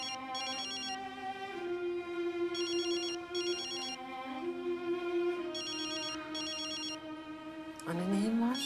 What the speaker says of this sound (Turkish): Telefon çalıyor, seninki mi?